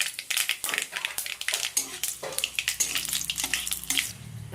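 Kasuri methi, dried fenugreek leaves, frying in hot oil in a pan for an Odia aloo matar curry, giving a loud, close, continuous crackling sizzle with rapid popping bursts throughout.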